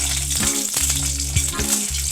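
Green and dried chillies fry in hot oil in a pan, a close, steady sizzle with a low hum beneath and light scraping clinks as they are stirred.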